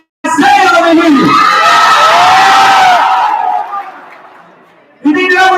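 A loud crowd screams and cheers for a contestant in an audience vote, a dense burst of yells and shrieks that swells, then tapers off before a host speaks again.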